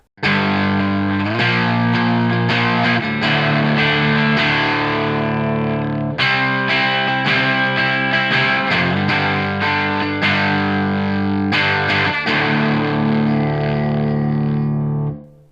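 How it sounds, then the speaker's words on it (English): A Schecter Blackjack C-1 ATX electric guitar on its bridge pickup plays chords and riffs with a crunchy overdriven tone, bright and gritty, sustained and loud with brief pauses between phrases. "this thing can do some interesting crunch tones, especially with the bridge pickup"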